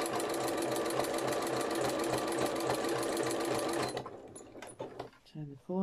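Sewing machine zigzag stitching through felt for a quilt-as-you-go needle case, a loud rapid steady whir for about four seconds, then it stops and a voice speaks briefly.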